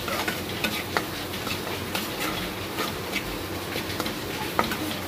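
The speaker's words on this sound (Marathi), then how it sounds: "हे छानपैकी मिक्स करून घ्यायचं आहे" Spices being stirred into eggplant bhaji in a pan on a medium flame: a steady soft sizzle with repeated scraping clicks of a spoon against the pan, close and continuous, with no voices.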